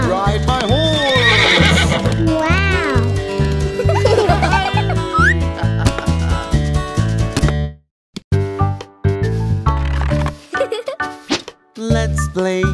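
Horse neighs and rhythmic hoof clip-clops in a nursery rhyme track, playing over a steady bouncy music beat, with several whinnies early on, then a pause and sparser hoof clops.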